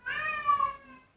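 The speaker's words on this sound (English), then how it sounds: "Oh, that's my cat Millie." A house cat meows once, a drawn-out plaintive call, close and clear, wanting to be let outside, with no talking.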